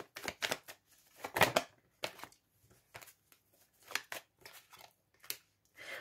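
A tarot card being turned over and handled on a table, giving a run of crisp papery flicks and slaps in uneven bursts, close and fairly quiet, with no talking.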